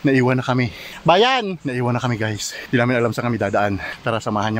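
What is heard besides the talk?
No everyday noise stands out behind the speech.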